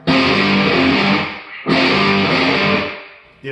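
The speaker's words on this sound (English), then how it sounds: "If I put distortion on here, you get" Two heavy distorted electric guitar chords ring out and sustain, the second struck after the first decays, loud and gritty.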